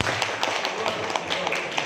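Audience of teachers at an in-house training event at a senior high school applauding history teachers, dense steady clapping from many hands throughout with no pauses.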